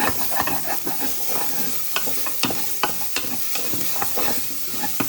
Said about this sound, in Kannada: ಕೊತ್ತಂಬರಿ ಸೊಪ್ಪು ಮತ್ತು ಮೆಂತ್ಯ ಸೊಪ್ಪು ಹಾಕ್ತಾಯಿದ್ದೇನೆ. ಪುನಃ ಫ್ರೈ ಮಾಡಬೇಕು ಸ್ವಲ್ಪ ಹೊತ್ತು.